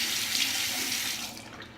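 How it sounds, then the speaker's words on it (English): Tap water runs steadily from a faucet into a sink while a makeup brush is wetted, a close, continuous hiss that tapers off toward the end. "So I just wet the brush first"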